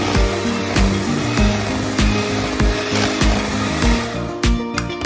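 An electric mixer beats sugar and butter for a lemon pound cake, a steady motor whir with rhythmic clacks of the beaters knocking against the bowl, close and fairly loud.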